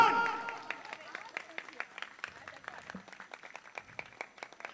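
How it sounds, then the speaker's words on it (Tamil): Audience at an Onam celebration event claps after a prompt from the host, scattered, fairly faint hand claps following a brief voice at the start. "Give them a big round of applause."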